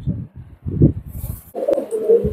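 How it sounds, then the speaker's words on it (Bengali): A Sabdar Royal pigeon coos in a few low, rounded bursts close by, followed by a brief sharper rustle and click. "ভাই এটা হচ্ছে সাবদার রয়্যাল কবুতর ভাই"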